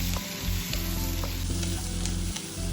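Square-cut onions fry in a pan with chilli chicken masala, giving a loud, dense, continuous sizzle with a few soft stirring scrapes, close up and with no talking.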